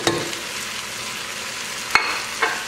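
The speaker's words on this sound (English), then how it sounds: "You have to fry it a bit because we don't want it to taste pasty." Tomato paste fries in a pan while vegetarian green bean rice is being made, giving a steady soft sizzle with a few sharp scrapes or clinks of stirring near the end.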